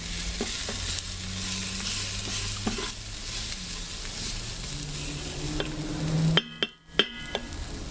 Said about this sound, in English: Now the meat, I'd cook that,